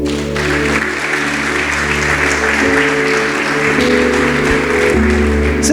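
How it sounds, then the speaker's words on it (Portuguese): Congregation applauding in a Brazilian church service, steady loud clapping from many hands over sustained keyboard chords, continuous and full-bodied throughout. "Aplauda Jesus."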